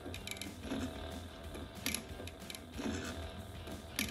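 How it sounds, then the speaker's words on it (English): A Sailrite Fabricator sewing machine, fitted with a non-leather needle, driving slowly through thick material: close, uneven mechanical ticking and clunking with a faint motor hum and small surges. "you hear the needle going through the material"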